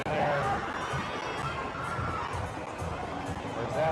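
A cheering section of spectators at a gymnastics meet fills the space with loud continuous crowd noise, shouting voices and cheers blending into one dense roar.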